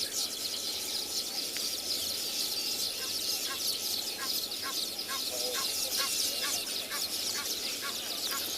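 An Egyptian goose calls outdoors on a South African morning safari, a series of rhythmic, repeated honking notes at moderate distance over steady background noise.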